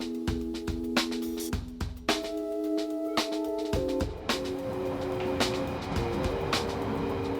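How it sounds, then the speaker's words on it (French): A London Underground train rumbles and clatters close by, with steady droning, tonal motor whine and repeated sharp rail clunks throughout. "Nous le retrouvons dans le métro londonien."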